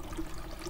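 Fuel pouring from a canister into a tank in a horror video game, a short steady liquid gurgle and trickle, close and moderately loud, with no talking.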